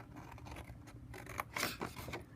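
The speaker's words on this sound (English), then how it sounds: "so the long side, you're going to cut up the score line" A cardboard box is cut along its score line with scissors, giving a few quiet, close snips and scraping cuts that end in a brief louder burst.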